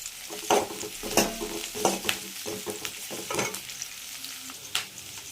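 Okra curry ingredients sautéing in a pan with a pinch of pepper added, a close sizzle under a run of repeated spatula scrapes and stirring strokes at an uneven rhythm, with no voices.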